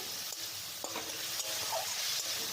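Chicken with salt, ginger-garlic paste, turmeric and chopped onion is stirred in a hot pan, giving a continuous moderate sizzle with a few soft scraping taps of the spoon, close up and without speech.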